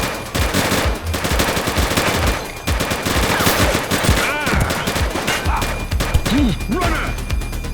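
Rapid gunfire in the police game The Precinct, dense bursts of automatic shots loud and close throughout, with shouted voices and radio chatter mixed in.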